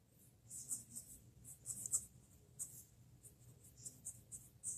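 A Wing Sung 233 fountain pen nib scratching across paper, giving faint, close, irregular strokes and light feedback in a steady uneven rhythm with no talking.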